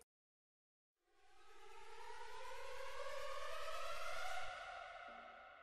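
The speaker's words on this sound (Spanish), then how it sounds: "El Razer suena así" A synthetic riser swells in after a second of silence, a bright, tonal sweep climbing and growing louder, then easing off with a low rumble beneath.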